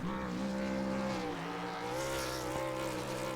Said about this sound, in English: So as we go to Matt, he's going to do his burnouts.